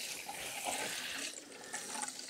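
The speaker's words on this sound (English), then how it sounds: "next I'm gonna grab some water quickly and just water them all in here" Water poured over newly planted pepper plants in a carport greenhouse, a steady close rush of splashing liquid lasting the whole moment without pause.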